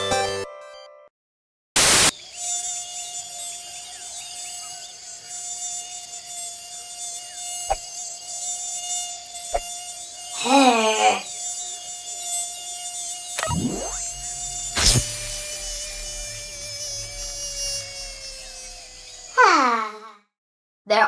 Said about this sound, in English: There are many hungry insects in the tropical jungle.